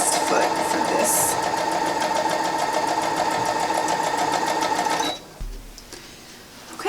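A sewing machine with a walking foot stitches a fabric pocket for a DIY wheelchair coat, running in one loud, steady mechanical whir for about five seconds before stopping abruptly into near silence.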